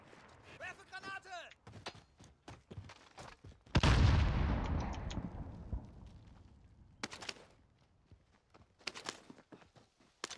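A single grenade detonates in the battle royale game Warzone with a sudden heavy blast that fades into a long rumbling tail, surrounded by quieter footsteps, clicks and a voice speaking beforehand.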